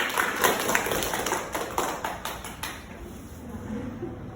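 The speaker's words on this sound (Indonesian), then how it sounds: "Kita kasih aplaus kepada Ibu" Audience clapping for a presenter at a group presentation about anemia, a short burst of scattered applause that thins out after a few seconds into quieter room noise.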